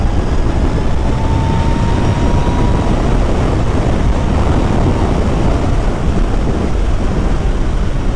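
Zero electric motorcycle at speed, with a steady, dense roar of wind buffeting across the whole clip and a faint high whine running underneath.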